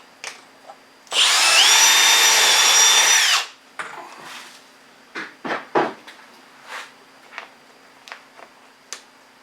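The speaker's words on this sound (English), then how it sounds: "I'm going to drill all the way through on the first hole." A power drill whines loudly for about two seconds as it bores through the back window panel of a Hisun Sector 550 side-by-side, then stops, followed by a scatter of light knocks and taps.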